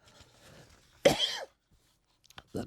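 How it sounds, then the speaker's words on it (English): A single sharp cough bursts out at close range, loud against an otherwise quiet room with faint murmuring before it and a couple of soft knocks afterward. "That made me cough."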